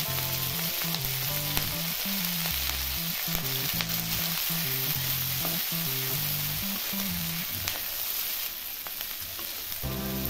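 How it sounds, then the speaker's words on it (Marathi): A quarter kilo of green chillies frying in oil over a full flame, producing a dense, loud, continuous sizzle with a low rhythmic hum beneath and scattered crackles, steady throughout. "मी आता गॅस मोठा केलाय, आता मिरच्या चांगल्या भाजून घ्यायच्या।"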